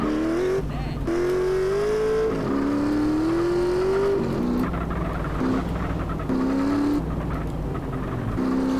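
A motorbike engine in GTA San Andreas drones and climbs in pitch as it accelerates, dipping between gear changes with repeated rising revs, steady and fairly loud amid game noise.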